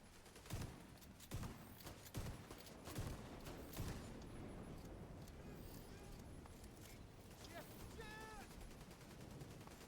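Automated turret gunfire in a video game, rapid bursts of shots and impacts layered over dense, busy game noise, with a few sharp louder cracks standing out and a voice speaking intermittently.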